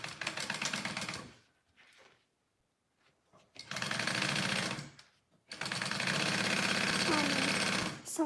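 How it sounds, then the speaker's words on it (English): A sewing machine stitches a quarter-inch seam along the top of a fabric back slip pocket in loud, rapid, mechanical bursts, with a short pause between runs and a longer final run. "we're just gonna sew it at a 1/4 inch seam allowance up at the top here"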